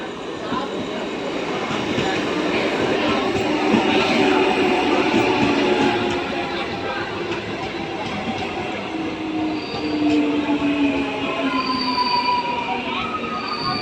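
A train rumbles steadily past at a railway station with long, high metallic wheel squeals drawn out over the constant roar, loud and close throughout.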